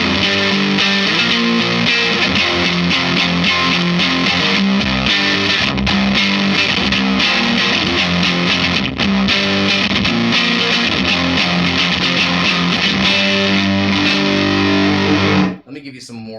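Loud, continuous electric guitar through a JHS fuzz pedal with a thick, fuzzy distortion, playing sustained notes and lines for about fifteen seconds before cutting off.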